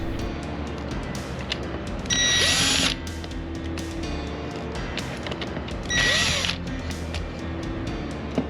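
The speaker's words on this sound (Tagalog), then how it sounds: "At isunod naman po natin alisin yung tatlong tornilyo rito na umahawak dito sa base naman po." A power screwdriver whirs in two short bursts while removing the three screws that hold the base of a NutriBullet blender, with quiet handling clatter close up between the bursts.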